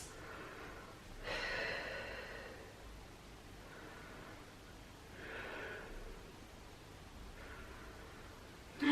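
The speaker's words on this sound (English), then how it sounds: "just take a few really nice deep breaths" Slow, deep breaths taken in child's pose to cool down after an intermediate legs and core workout, three soft, airy exhales spaced several seconds apart in a quiet room.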